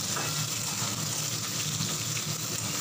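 Potato and pumpkin fry together in a pan with a dense, steady sizzle that holds loud and even throughout, close up with no voices.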